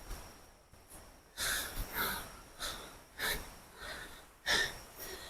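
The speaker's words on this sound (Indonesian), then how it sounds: "Ini napas juga udah ngos-ngosan." Heavy, ragged panting from a hiker on an overgrown trail to a waterfall, with several loud gasping breaths in an uneven rhythm, close to the microphone and heard alone.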